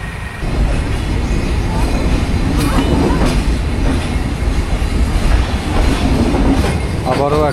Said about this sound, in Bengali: একটা ট্রেন গেল, সম্ভবত দ্রুতযান গেল।